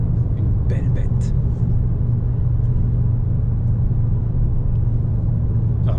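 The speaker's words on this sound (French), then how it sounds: "je parle pas trop pour quand même profiter un petit peu du son de la voiture" Engine note of a 2021 Audi S3 sedan while driving, a loud steady low rumble filling the cabin, with brief voice fragments near the start.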